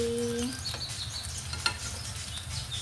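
Constant sizzling of eggplant frying in a pan, with a few faint clinks of a utensil and birds chirping softly in the background.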